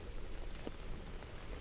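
Steady soft rain falls in a quiet outdoor setting, a constant even hiss with faint scattered drops, no voices present.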